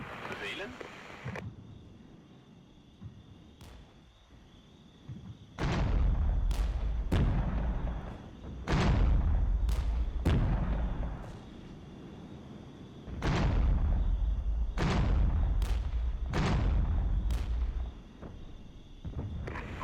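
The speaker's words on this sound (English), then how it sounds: "Let's artillery eliminate this." Artillery barrages in the real-time strategy game Regiments, a series of loud booming impacts with rumbling low tails that come in clustered volleys, with talk running underneath.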